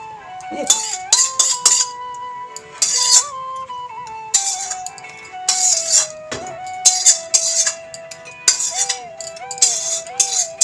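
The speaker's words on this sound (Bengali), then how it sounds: "কড়াই চেঁচেও নিচ্ছি গরিব মানুষ একদম ফেলবো না চেয়ে চেঁচে পুচে নিয়ে নিচ্ছি" A spoon scrapes leftover fish kalia from a metal kadai in short, clinking, scratchy bursts, heard over a sustained melodic tone that runs through the whole passage.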